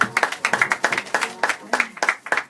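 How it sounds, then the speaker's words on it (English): Audience at a glamorous fashion night gives a round of applause, a few close, distinct hand claps in an irregular, quick rhythm rather than a large crowd roar. "Give her a round of applause."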